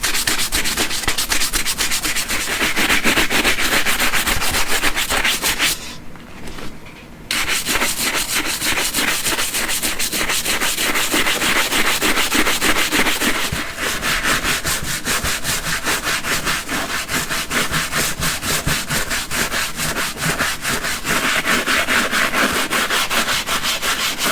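Scuzz brush scrubbing dirty leather Diehard moc toe boots, a fast rhythmic scratchy rasp of bristles on leather that continues loudly and closely with one short pause, no voices.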